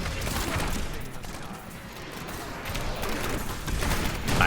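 Grenades exploding in the video game Diablo 3 during a hardcore Demon Hunter multiplayer fight, a continuous rumbling barrage of blasts and crackles rolling on without pause.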